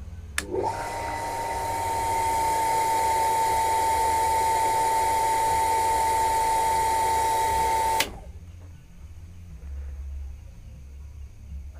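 A small household water pump fitted with a pressure switch is switched on and runs with a loud, steady whine for several seconds, then cuts off abruptly, leaving a quieter background hum.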